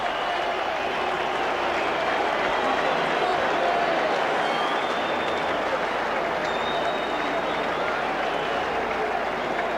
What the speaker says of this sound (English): Perhaps rather muted applause for the All Blacks.